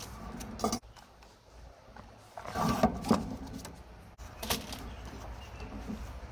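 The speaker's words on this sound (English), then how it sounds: "I will need to cut down our leather to the size of our manila folder" Scissors cut a paper bag made into faux leather down to the size of a manila folder: quiet, irregular snips and papery crinkles in short bursts, with a few louder rustles.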